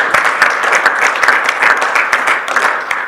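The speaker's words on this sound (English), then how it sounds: "Please give him a round of applause." An audience at a sustainable packaging and recycling innovation summit claps for about three seconds, a close, loud, even round of applause with a few sharper individual claps, and no one talking over it.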